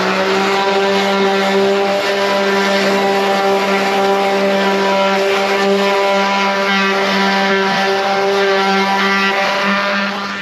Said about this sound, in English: Sorry for the background noise. That'll be my air conditioner.